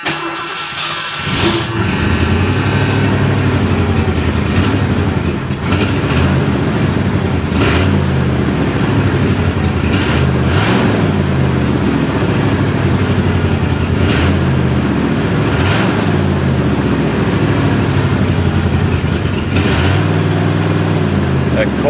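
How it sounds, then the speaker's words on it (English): A Ford LTD car engine runs steadily at a cold idle, a low continuous rumble with slight rises and dips in revs, while a person talks over it. "That cold idle should be catching in there and keeping it revved up."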